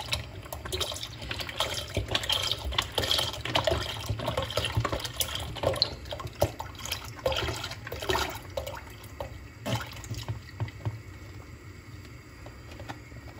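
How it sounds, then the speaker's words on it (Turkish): Milk poured from a carton into a pot for oven-baked rice pudding, a close, continuous liquid splashing and glugging that tapers off toward the end. "Ve sütü döküyorum."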